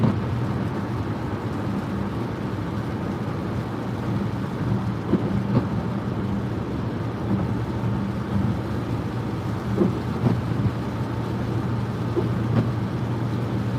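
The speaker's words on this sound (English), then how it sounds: "it's going to start pouring here pretty quick. I can see the rain right in front of me." Steady road and engine rumble fills the cabin of a 2021 Dodge Durango R/T Blacktop on the highway, with a broad wash that fits heavy rain and a few faint distant knocks, no talking.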